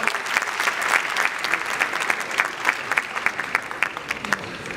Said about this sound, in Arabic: تصفيقة كبيرة عليهم مرة أخرى